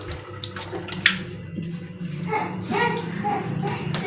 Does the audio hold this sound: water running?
yes